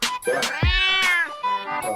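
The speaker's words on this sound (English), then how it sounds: "before Chris's cat interrupted" A house cat lets out a long, loud, drawn-out meow close to the microphone, followed by a shorter second cry, interrupting a conversation.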